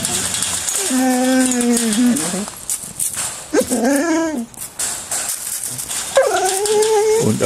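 Dogs in a kennel howl and whimper in three drawn-out, wavering calls, close and loud, with a person talking in between.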